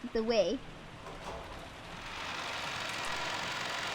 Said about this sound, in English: As we opened the front door, the downpour was quite terrific.